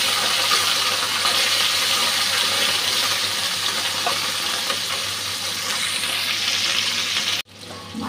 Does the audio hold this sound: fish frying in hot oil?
yes